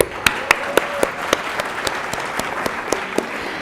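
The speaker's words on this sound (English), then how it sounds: "Let's have another round of applause for these amazing speakers." A round of applause for speakers at an oratorical contest evening: loud, continuous crowd clapping, with a few sharp, close individual claps standing out in a loose rhythm above the wash.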